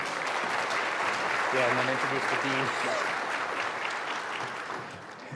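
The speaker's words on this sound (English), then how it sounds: "A round of applause for Ben." Full audience applause at a public and allied health symposium keynote, steady dense clapping throughout with a voice briefly speaking over it midway before it tapers off.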